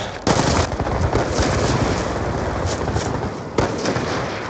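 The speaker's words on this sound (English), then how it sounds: "Where am I getting shot at from?" Loud, dense gunfire in the Call of Duty video game on the Nuketown map, with sustained rapid firing and sharp bursts near the start and end, up close and dominating.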